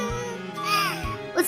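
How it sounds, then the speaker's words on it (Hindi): A high, wavering voice briefly sobs and whimpers as a cartoon bird character crying, close and clear. "टुनटुनी चिड़िया अपनी किस्मत पर रो रही थी"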